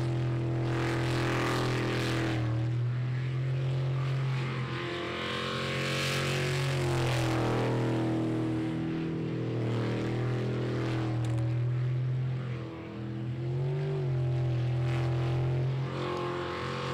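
A loud race car engine drones continuously at high revs in an ASB Pro Racing Series race, its pitch rising and falling slightly as it holds near full throttle for a long stretch.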